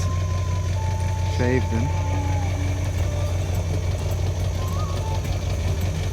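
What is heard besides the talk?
vehicle engine while reversing a tiny house trailer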